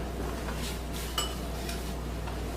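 A spoon is picked out among kitchen cutlery while preparing a cucumber salad, giving a few faint metallic clinks and one sharper clink over a low steady hum.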